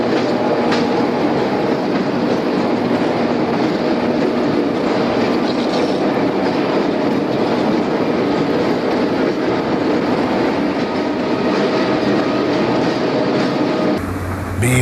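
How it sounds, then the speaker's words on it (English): Erie Lackawanna freight train, the westbound Bloomsburg branch local, rolling across the valley at Pittston Junction at low speed; a steady loud rumble of wheels and cars with faint clickety-clack runs throughout before briefly easing at the end. "Here's the Bloom man westbound, crossing the valley at Pittston Junction."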